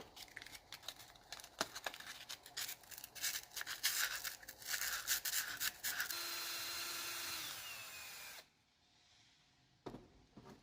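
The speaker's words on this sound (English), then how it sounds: "I've got a piece of pretty gritty 120 paper, and I put the plunger into the drill" A drill spins a brake wheel cylinder plunger against 120 grit sandpaper, giving a whirring, scratchy grinding with rattling scrapes, then a steadier whine before cutting off abruptly, followed by a final brief clack.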